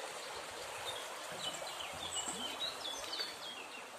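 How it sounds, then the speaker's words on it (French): A small river flowing under a bridge on a spring hike, with a steady, even rush of water throughout and faint bird chirps scattered on top. "On passe au-dessus d'une petite rivière avec un pont."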